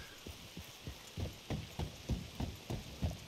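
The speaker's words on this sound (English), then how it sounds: "rain." Rain falls in Red Dead Redemption 2, a soft steady patter with a rhythmic series of low thumping footfalls, like hooves, pacing through it at moderate volume, with no voices.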